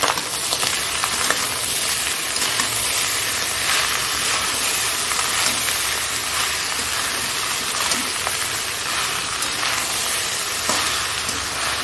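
Cooked rice frying in hot oil in a pan, giving a steady, loud, dense sizzle with crackling and occasional stirring scrapes throughout, no talking.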